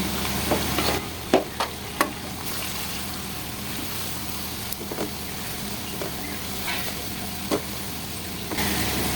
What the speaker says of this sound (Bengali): নাড়তে হবে অনবরত, রসুনটা যেন নিচে লেগে না যায়।